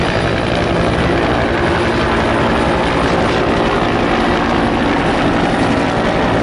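A helicopter roars loudly and continuously nearby, its rotor and engine noise filling the clip without pause.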